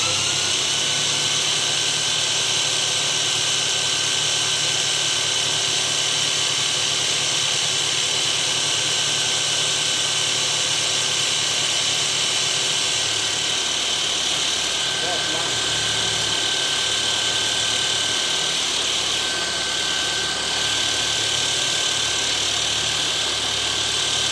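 A Mercedes Vito 639 engine hums steadily at low revs, a loud constant droning close by that shifts slightly in tone partway through, with someone talking over it.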